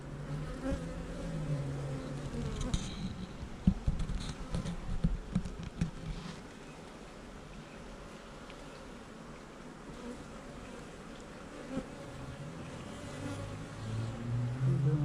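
Worker honey bees buzz at an open hive, a dense close droning hum that swells and wavers, with occasional handling bumps and no talk.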